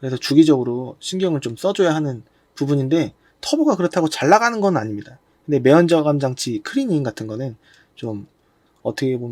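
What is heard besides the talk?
No distinct noise like a dog, phone or traffic.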